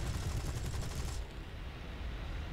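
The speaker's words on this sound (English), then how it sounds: "Cannon is out of ammo, so we are on machine guns." Rapid aircraft cannon and machine-gun fire from a D.520 fighter in the War Thunder video game, a dense rattling burst that cuts off abruptly partway, leaving a lower engine rumble.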